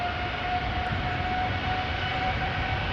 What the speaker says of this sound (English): I think I can also see the Coast Guard airplane